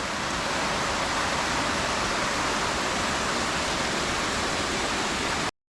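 Steady rushing of a flowing creek along the Roaring Fork Motor Trail, a dense continuous wash of water noise, then it cuts off abruptly at the end.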